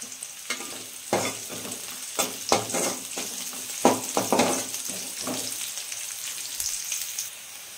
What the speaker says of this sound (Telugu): మనం పోపు వేసేసుకోవాలి.